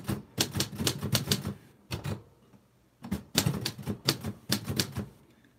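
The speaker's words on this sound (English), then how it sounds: "We'll type your name again, Mr. Bacon." A typewriter set to stencil print types out a name, fast bursts of crisp key strikes close up with short pauses between groups of letters, no talking over it.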